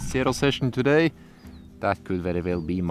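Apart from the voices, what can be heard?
No everyday noise stands out behind the speech.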